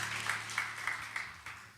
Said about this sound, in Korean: 서로에게 사랑의 박수로 축복하겠습니다.